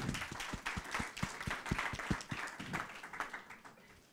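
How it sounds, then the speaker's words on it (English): An audience applauding a debater at a speech event, a brief burst of many hands clapping fairly close, with a few distinct loud claps early on that blend into a steady patter before fading slightly. "round of applause for Matt"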